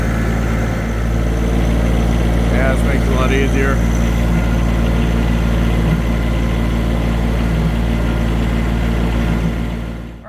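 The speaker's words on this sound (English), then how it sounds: "Use the tractor instead." A tractor engine runs steadily, pushing a Chevrolet Tahoe with engine problems, a continuous low, heavy rumble held loud throughout while someone speaks briefly over it.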